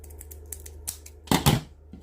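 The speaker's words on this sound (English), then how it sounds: "squeeze it and then just trim it off with your scissors." Scissors make a few quick snips on a craft stick, with a sharper, louder double cut after a row of softer clicks.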